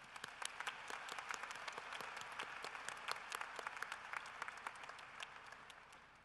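A large commencement crowd at a university fall graduation applauds, a dense, even wash of clapping with many sharp individual claps standing out, heard at a moderate distance without speech.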